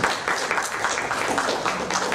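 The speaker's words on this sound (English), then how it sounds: "Why don't you give a clap offering to Jesus for all this?" A congregation claps for Jesus during a Sabbath church service in Sharjah, a fairly loud, dense burst of applause that goes on steadily from start to finish.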